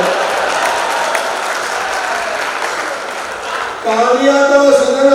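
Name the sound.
audience applause at a Hindi comedy poetry gathering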